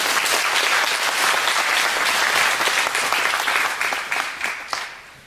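A church congregation applauds together, a dense, loud burst of clapping that holds steady for several seconds before thinning out and fading near the end.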